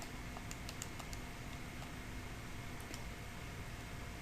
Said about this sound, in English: I'm going to type that in